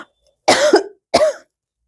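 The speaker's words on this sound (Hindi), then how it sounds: "खांसती हूँ ना तो सिर में दमक जा रही है बहुत।" A woman coughs twice during an online railway-exam maths lesson: two loud, close, harsh coughs about half a second apart, with silence around them.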